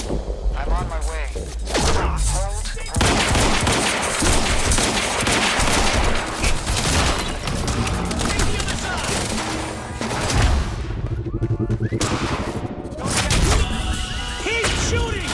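Sustained, dense gunfire in the video game Quantum Break: loud overlapping bursts and thuds from a firefight, with voices shouting over the shooting.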